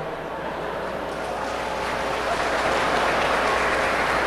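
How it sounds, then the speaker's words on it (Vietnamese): An audience claps steadily at a spring concert held at a Vietnamese Buddhist temple, the dense applause sustained and building slightly, heard from amid the crowd. "sao Tuấn Anh thấy bên phải của Tân coi bộ không thích vọng cổ lắm cho nên không thấy vỗ tay?"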